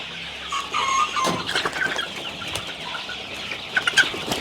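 Chickens cluck and squawk on a poultry farm where birds about 45 days old are raised for meat. Several birds sound close by, with occasional louder calls and some wing flapping.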